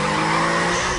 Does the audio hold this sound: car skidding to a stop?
yes